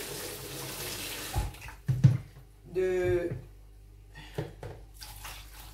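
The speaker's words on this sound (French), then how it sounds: "je vais rajouter encore de l'eau" Tap water runs into a bowl of frozen fish in a home kitchen to help it thaw, a short bright stream splashing mid-clip amid clinks and kitchen handling noises.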